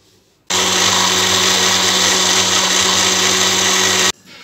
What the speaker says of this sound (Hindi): ब्लेंडर जार को बंद करके इसको ब्लेंड करेंगे।